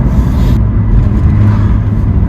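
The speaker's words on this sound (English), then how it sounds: "Turbo noise, oh, love it." Loud, close engine drone inside a BMW M2 with a turbocharged N55 engine and manual gearbox, with a rushing turbo whoosh, steady and continuous throughout.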